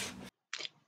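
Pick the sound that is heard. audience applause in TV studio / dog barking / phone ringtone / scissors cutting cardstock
scissors cutting cardstock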